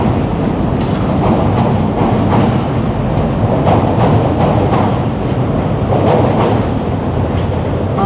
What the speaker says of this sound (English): you'll see an L train going over the Wells Street Bridge